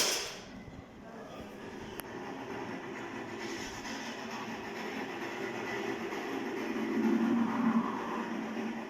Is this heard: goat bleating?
no